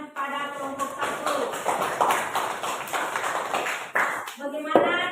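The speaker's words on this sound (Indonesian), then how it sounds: "Beri tepuk tangan pada kelompok 1." A classroom of students claps for a group that has just presented, a few seconds of scattered, uneven hand claps close by, with a teacher's voice speaking before and over it.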